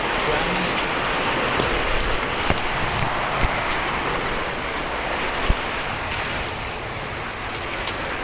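Heavy rain pours steadily in a village during an April storm with hail, a dense, loud, continuous hiss broken by a few sharp drop or hail impacts, with no break in the downpour.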